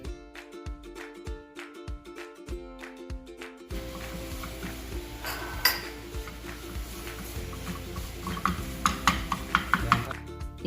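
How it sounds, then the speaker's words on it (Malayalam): Two eggs scrambling in oil in a hot pan: after an opening stretch of rhythmic knocks, a steady sizzle sets in with repeated metallic scrapes and clinks of a utensil against the pan, close and clear, with no talking. "ആദ്യം തന്നെ നമ്മൾ ഈ 2 മുട്ടയും കുറച്ച് ഓയിൽ ഒഴിച്ച് ഒന്ന് വറുത്തെടുക്കാം."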